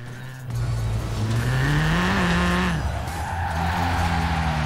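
A small, short car in the video game Forza Horizon 4 revs its engine loudly, the pitch climbing and falling as it accelerates. Tires screech over the engine, and there is no talk.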